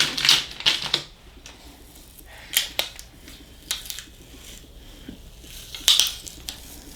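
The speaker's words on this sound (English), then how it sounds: "I'm just ripping the transfer tape off." Strong-grip transfer tape is peeled off a Cricut vinyl label in short, sharp crackling rips. The bursts are close and loud, separated by quieter handling pauses.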